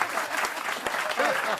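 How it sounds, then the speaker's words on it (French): A radio comedy show's studio audience claps in a dense, sustained round of applause. A voice speaks briefly over it. "C'est mon grand retour sous vos applaudissements"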